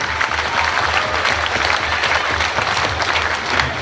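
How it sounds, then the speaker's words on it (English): A kickboxing crowd applauds both fighters after a bout, with dense, loud, sustained clapping throughout and no voice on top. "big round of applause to both fighters"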